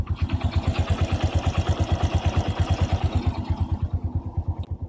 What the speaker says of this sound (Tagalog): Balikbaran nyo na ang tunog ng kanyang makina guys.